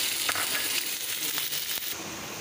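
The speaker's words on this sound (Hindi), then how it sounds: "ये कीमा जो है ना फ्राई हो रहा है।" Minced meat keema frying in a pan with garam masala, a steady close crackling sizzle with faint scraping, heard alone throughout.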